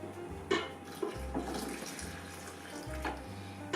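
Hot water poured into a well in flour for spice bread, a steady running, splashing stream in a kitchen with a low mechanical hum pulsing underneath and a few clinks.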